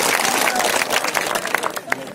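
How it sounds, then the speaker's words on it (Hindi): Crowd at a Congress party rally applauding new members joining the party, a dense, loud wash of many hands clapping that continues steadily with a few sharper individual claps standing out. "जोरदार ताली इनके लिए।"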